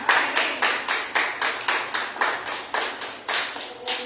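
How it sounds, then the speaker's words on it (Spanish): A church congregation claps in unison to praise the Lord, a loud steady rhythm of sharp, evenly spaced claps, about three per second, with no talking. "Aplaude al Señor en esta tarde."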